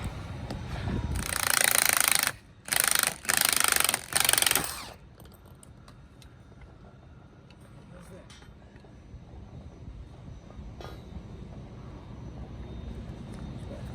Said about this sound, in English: about to send it and just blast off the nut like I did with the other one